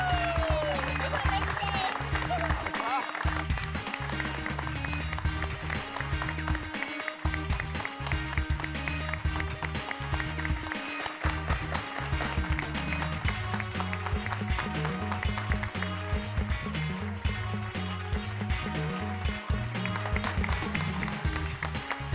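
A live audience gives sustained, loud applause to welcome guest Shri Bachubhai Gandhi at a community gathering in the Taarak Mehta Ka Ooltah Chashmah sitcom, with dense clapping and background music or crowd noise throughout.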